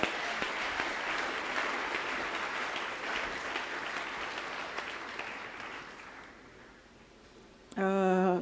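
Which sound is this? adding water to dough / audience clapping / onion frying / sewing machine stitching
audience clapping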